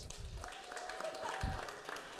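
Audience applause at a live debate event on public housing, a dense, steady patter of many hands clapping for about two seconds with a murmur of voices mixed in.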